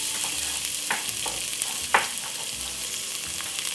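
White onion and garlic sauté in oil in a pot for Jamaican curry goat, a constant close sizzle with a few quick stirring knocks and scrapes and no talking.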